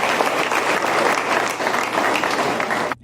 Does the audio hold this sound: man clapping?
yes